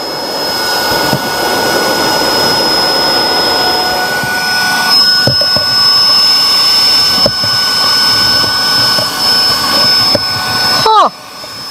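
A powerful dust vacuum cleaner fitted with a foam adapter roars steadily at close range with a high whine, running continuously under occasional talk before cutting off sharply near the end.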